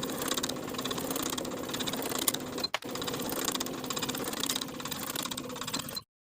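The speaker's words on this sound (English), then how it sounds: "Sew the long edge with a 1/4 inch seam allowance." A sewing machine runs a long straight seam along a fabric strap at a quarter-inch allowance, a steady close whirring that pauses briefly midway, then resumes before stopping.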